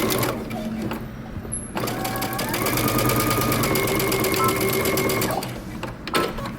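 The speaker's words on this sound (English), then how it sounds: "now we're going to go ahead and sew our tie belt together" A domestic sewing machine stitches the tie belt of a shirt dress at a 5/8-inch seam allowance, a steady rapid whirring run lasting several seconds between brief pauses, close and fairly loud.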